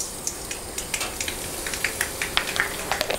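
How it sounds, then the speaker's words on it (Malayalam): Mustard seeds crackling and popping in two tablespoons of hot coconut oil in a pan, a steady sizzle with quick sharp pops scattered irregularly throughout, close and alone without talk. "അതിലേക്ക് 1 സ്പൂൺ കടുകിടാം"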